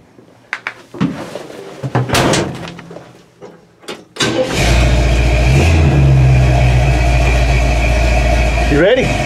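A Chevy C10 pickup truck, warmed up before a drive, starts off with a door clunk and some handling noises, then its engine settles into a loud, steady, close rumble as it pulls away, with a brief rising whine near the end.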